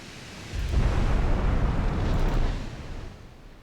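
A naval shell explosion in Ultimate Admiral Dreadnoughts: a deep, loud rumbling boom that swells suddenly, holds for about two seconds, then fades into a low roar.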